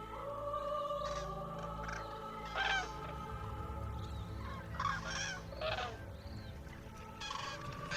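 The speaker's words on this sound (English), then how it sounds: "see and hear such a huge flock of cranes in such a wild, marshy area" A large flock of cranes calls at night over a wild marsh, trumpeting and honking in overlapping bursts at moderate distance, fairly faint above a low, steady background rumble.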